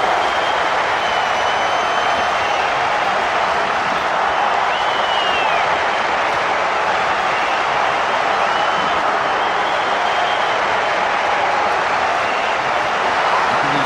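Steady, continuous cheering from a large rugby crowd at a Tonga v Samoa World Cup match, a dense wash of roaring noise that holds evenly loud throughout with no voices standing out.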